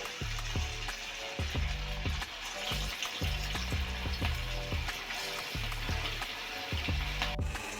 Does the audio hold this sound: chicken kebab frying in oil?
yes